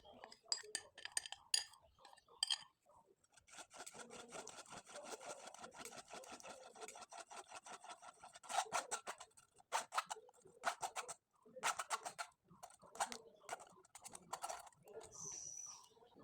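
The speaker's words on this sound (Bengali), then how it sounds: "বেটারটা আমি খুব ভালোভাবে চেলে নিলাম" Batter for jhilmil pitha, made with wheat flour, is worked through a sieve with quiet, rapid scratching and rubbing strokes that come in close bursts with short pauses, close to the listener and faint overall.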